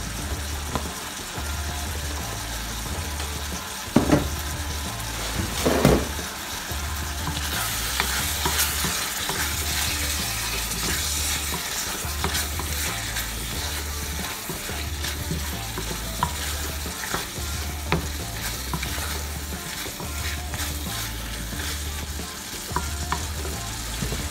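Bacon frying and being stirred for a cauliflower-rice bacon sauce makes a steady crackling sizzle with occasional scrapes and knocks of a utensil, close by, over a low rumbling hum in the background.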